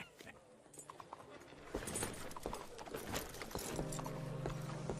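Horse hooves clip-clop at a steady walking pace in the Western video game Red Dead Redemption 2, fairly quiet and mixed with faint voices and ambient game sounds.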